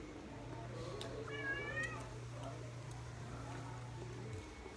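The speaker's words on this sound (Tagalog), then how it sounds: "Itong pusa ko, guys, makulit to." A pet cat meows insistently beside a seafood meal: a short run of high, wavering meows near the middle, close but modest under a steady low hum, with talking heard too.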